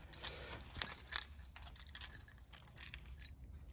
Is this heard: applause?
no